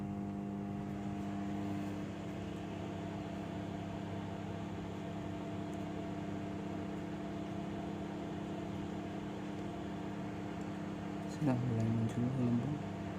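A microwave oven runs while reheating a container of water that holds a cut piece of copper wire, giving a steady, even mechanical hum throughout. A brief voice is heard near the end.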